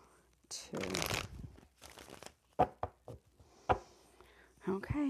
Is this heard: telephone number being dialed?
no